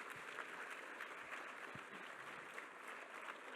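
A gala audience gives Colonel Oliver North another round of applause, steady close clapping that stays even and full for the whole stretch, alone without speech.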